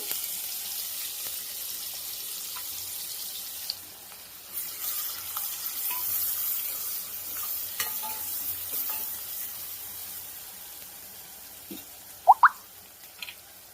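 Onions frying in oil with bay leaf, cinnamon and green chillies, a soft steady sizzle with occasional stirring clinks and a few sharp utensil taps near the end, no talking.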